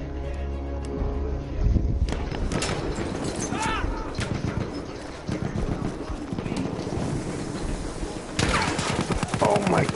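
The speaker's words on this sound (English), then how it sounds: "Those are bullets." Chaotic battlefield gunfire in Battlefield 1, dense bursts and shots crackling over a constant din of combat, with voices talking at times.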